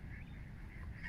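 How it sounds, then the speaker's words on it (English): A duck calling at a country park on a dog walk, a few brief honking quacks at middle distance over steady outdoor background noise. "He's winding you up, mate, that duck."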